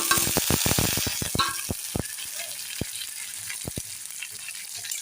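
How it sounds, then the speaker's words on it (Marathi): Tomatoes sauté in a hot pan for upma, a crackling sizzle with rapid clicks and spatula stirs that thin out over a few seconds, close and fairly loud with no talk. "इथे टोमॅटो घालून घेतलाय, तो देखील चांगला परतून घेऊया."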